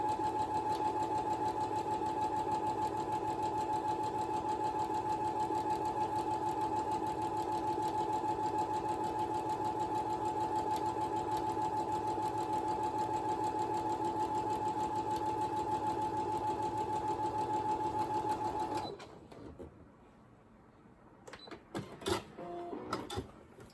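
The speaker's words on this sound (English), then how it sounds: "I'm going to sew it at a 1-inch seam" A sewing machine stitches a one-inch seam through a king-size postage stamp quilt, running in a steady, continuous whir for most of the time before stopping abruptly, followed by a few faint handling clicks.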